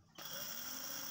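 A power drill bores into a PVC pipe box, starting abruptly and holding a steady high whine for about a second, close and alone.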